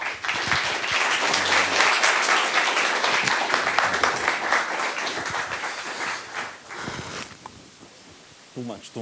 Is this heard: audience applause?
yes